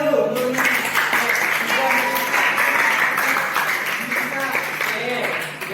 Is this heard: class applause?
yes